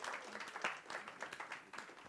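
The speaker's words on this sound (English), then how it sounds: "Give yourself a round of applause." A keynote audience applauds together, a steady wash of many hands clapping that holds at a fairly low, even level across the short stretch, with no voices on top.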